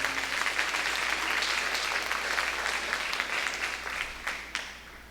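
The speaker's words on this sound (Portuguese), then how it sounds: "Uma salva de palmas para o Senhor." A church congregation claps together in a steady, dense round of applause that carries on throughout and eases off slightly near the end.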